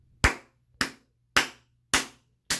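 A clapping sound effect plays five sharp, evenly spaced claps, each loud and crisp with a quick decay over a faint low hum, and no speech.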